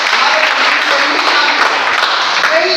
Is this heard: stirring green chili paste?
no